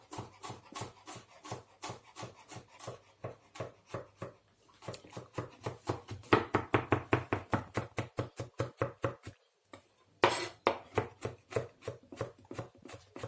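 A knife chops and crushes homegrown garlic on a board in crisp, evenly spaced strikes. Fast runs of blows are broken by brief pauses, close and clear, with no talking.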